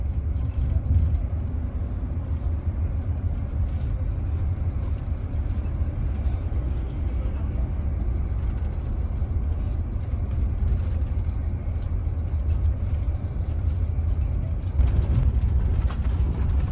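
Inside a Kramat Jati intercity bus travelling on the toll road from Bekasi to Bogor, a steady low engine drone and road rumble continue throughout, with faint cabin noises and no clear talking.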